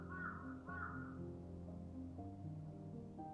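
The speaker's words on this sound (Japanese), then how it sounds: "めっちゃカラスが鳴いてる。" Crows caw outside, a steady series of faint, drawn-out calls carrying over a muffled indoor background.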